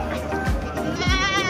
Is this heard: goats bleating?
yes